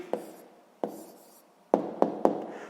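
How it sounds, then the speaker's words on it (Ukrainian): A pen on paper writing out a math answer, quiet close scratching strokes with sharp taps where the pen touches down, about five short bursts spaced unevenly, with no talking. "Записуємо відповідь."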